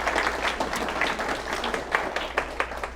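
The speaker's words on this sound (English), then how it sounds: "let's clap for her for sure" Applause from a small crowd at a Dobyns-Bennett High School band program, steady clapping for a few seconds, fairly close, no speech.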